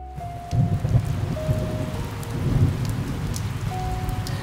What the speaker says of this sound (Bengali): মুষলধারে বৃষ্টি চলছে তো চলছেই